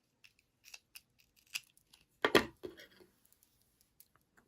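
Small scissors snip a tail of crochet yarn in a quiet room, a few faint clicks and one louder crisp snip near the middle.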